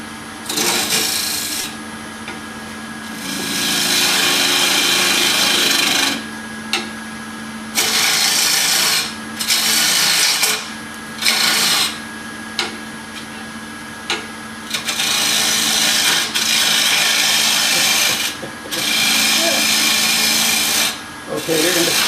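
A power tool cuts wood in loud, sustained bursts of whining, grinding noise that stop and restart repeatedly with brief gaps, close up and dominating throughout.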